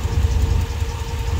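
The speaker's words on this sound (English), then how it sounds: "it sounds like it's got a little bit of an exhaust leak" A 2008 Dodge Ram's engine idles with a light top-end tick and an exhaust leak underneath, a steady close rumbling drone with a faint rhythmic chuff.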